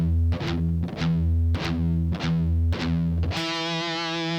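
Heavily distorted electric guitar chugs a palm-muted pedal-tone riff, four tight rhythmic bursts with string resonance, then a sustained ringing chord swells out at the end, loud and up front with no voices.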